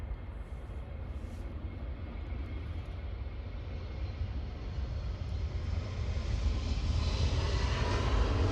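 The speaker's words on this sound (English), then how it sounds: "That's an A220." A Lufthansa Airbus A220 airliner passing as a steady broadband engine roar that builds gradually over several seconds, no voices.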